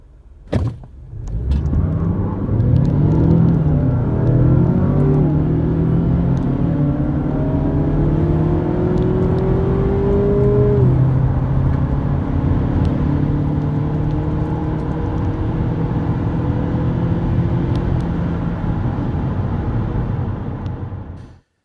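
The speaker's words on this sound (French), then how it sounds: "Regardez cette accélération-là." A 2018 Mazda 6 turbo accelerating hard, its engine note climbing steadily and loudly through the gears, with a few brief dips at the gear changes and a continuous strong rumble underneath.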